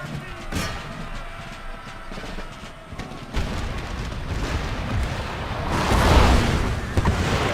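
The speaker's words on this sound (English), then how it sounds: "it's time to give them some grenades" Grenades exploding in Empire: Total War, a Napoleonic-era battle with a Poland-Lithuania army, heard as a dense rumble of booms and crackling blasts that swells toward the end, with a voice talking at times.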